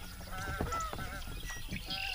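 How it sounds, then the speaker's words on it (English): Two Canada geese honk repeatedly near a lake during a fishing outing, several nasal calls spaced through the moment over a soft outdoor background. "Those are the same 2 geese."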